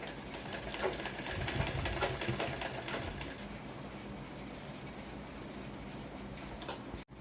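A sewing machine stitching a blouse piece runs steadily with a continuous whirring drone throughout, alone and fairly loud, cutting off abruptly near the end.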